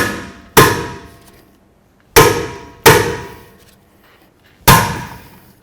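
Four sharp metallic clangs of a hammer striking a manual impact driver on a rear brake bolt of a 2006-2012 Ford Fusion, spaced irregularly with ringing decay between blows, loud and close.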